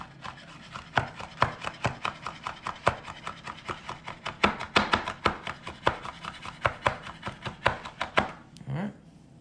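A chef's knife rock-chops fresh flat leaf parsley on a wooden cutting board in a cooking class, a quick, even train of crisp close taps that stops near the end.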